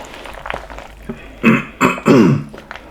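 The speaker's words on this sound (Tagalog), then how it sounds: "Oo, kasi inuubo pa talaga siya." A person coughs several times in short, harsh bursts, the last ones louder and rougher, close by in a quiet indoor space.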